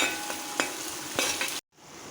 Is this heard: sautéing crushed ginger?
yes